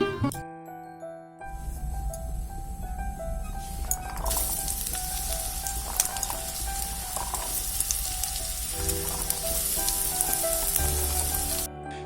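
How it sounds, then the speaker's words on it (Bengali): Carrots frying in a pan give a steady, fairly loud sizzle with occasional light clinks of a utensil against the pan, running without pause and with no talk. "সবার প্রথমে গাজরটা ভেজে নিচ্ছি"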